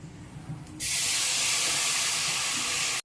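Tamarind water is poured into a hot pan of masala fish curry with curry leaves, bursting into a loud, sustained hiss after a quieter opening moment, then stopping suddenly.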